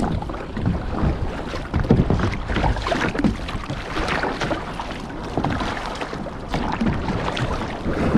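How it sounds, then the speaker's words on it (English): Strong wind and harbor-mouth swells buffet a kayak off Hawaii's Big Island, a loud continuous rush of wind noise with uneven slaps and splashes of water against the hull. "Wind is rolling right in to the mouth of the harbor, and the swells are coming right in as well."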